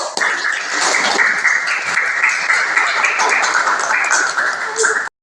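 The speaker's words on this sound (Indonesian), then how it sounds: "Kita berikan aplaus untuk kelompok 1." Applause from a classroom audience for a student presentation group, steady dense clapping that fills the whole stretch at close range, then cuts off abruptly.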